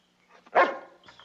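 Dog barking once, a single fairly faint bark with a short whimpering tail, heard alone.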